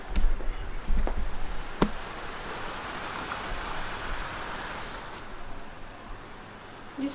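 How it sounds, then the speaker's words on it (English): Steady heavy rain pours down in a dense, even hiss, with a few sharp knocks and drips near the start. "Look at how much it's raining."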